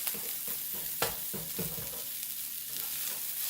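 Sweet potatoes caramelizing in a hot pan while being stirred, giving a steady sizzle broken by scraping strokes of the utensil, close and alone with no talking.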